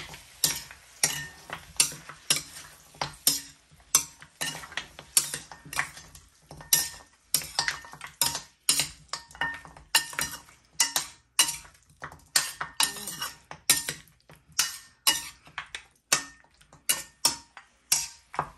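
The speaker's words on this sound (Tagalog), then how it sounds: "Tignan natin, halu-haluin natin." Metal spoon repeatedly scraping and clinking against a cooking pot while pork ribs caldereta is stirred, a steady run of sharp close taps and scrapes with brief pauses and no talking.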